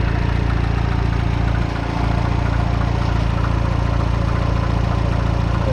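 A Citroen DS3 engine runs after a turbo upgrade with a loud, steady close idle and even mechanical chatter, dipping briefly once, no voices.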